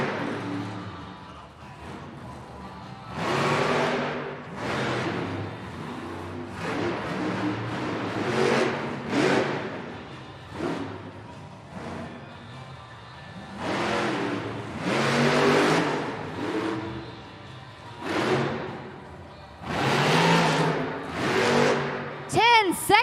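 Gravedigger monster truck engine at a Monster Jam arena event in Helsinki, revving in repeated loud bursts during a nose wheelie, with crowd noise and an announcer talking over it.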